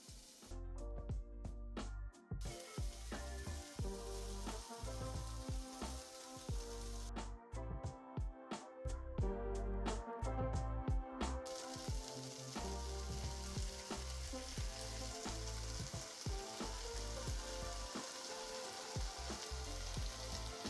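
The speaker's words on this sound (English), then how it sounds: "Mix and cook for about 8 more minutes, just for everything to come together and sauce to get a little bit thick" Onion, garlic, poblanos, cream and milk cooking together in a pan for an empanada filling, a continuous close sizzle and bubbling under background music, with no speech.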